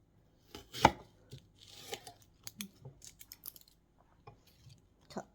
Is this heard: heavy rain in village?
no